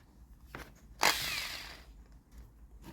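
A small bench grinder for sharpening tungsten chainsaw chain whirs up once to a loud, bright grinding burst that tapers off over a second or so. It is preceded by a couple of faint clicks and handling noises.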